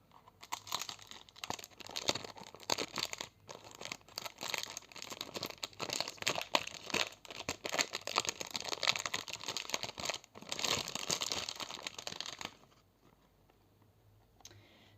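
Day face cream with collagen, grape seed extract and vitamin E being unpacked from its packaging, with steady close crinkling, crunching and tearing of wrap and carton for about twelve seconds, then quiet.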